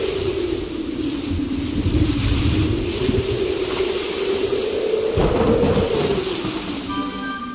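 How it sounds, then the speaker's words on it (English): Steady heavy rain pours with deep rolling thunder rumbling underneath throughout, a loud continuous wash with no voices. "Will you listen to that rain"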